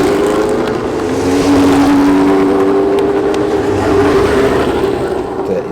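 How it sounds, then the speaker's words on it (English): A 1982 Lotus 91 Formula 1 race car engine drones loudly with a steady high-pitched whine at the Monterey Historics, holding roughly constant pitch for several seconds with no voices. "You can hear the sound of that engine."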